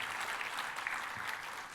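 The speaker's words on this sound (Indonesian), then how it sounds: "Tepuk tangannya yang paling meriah buat Tuhan kita" A church congregation applauding in worship, a fairly faint, even wash of many hands clapping that holds steady for under two seconds.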